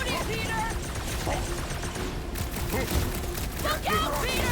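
Rapid blaster fire from Peter's gun in the Guardians of the Galaxy video game, dense bursts of shots and impacts over a busy battle mix, with voices talking over the fighting.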